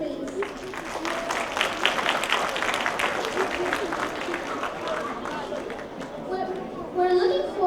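An indoor audience gives a round of applause for poster winners at a heritage month launch event, steady dense clapping lasting several seconds with some chatter mixed in.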